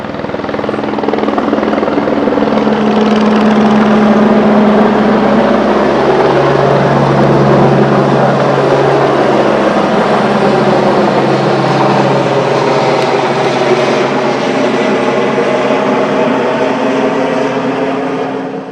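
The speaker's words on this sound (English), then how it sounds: "So we're going to be getting this helicopter sound pretty soon" A loud helicopter roars steadily overhead, its rotor thumping and engine whining continuously with no voices.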